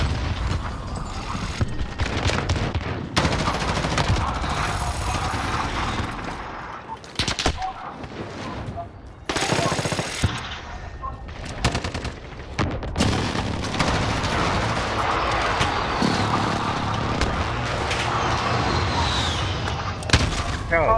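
Gunfire in Call of Duty: Modern Warfare. Dense, sustained automatic shooting with rapid bursts and heavy booms runs for about twenty seconds, broken by brief lulls and mechanical clatter.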